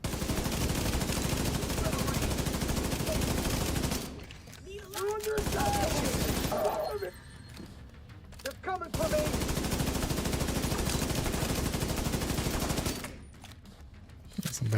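Sustained bursts of rapid automatic gunfire from a video game roar loudly and continuously, broken by two short quiet pauses, with brief game sounds and talk in the lulls.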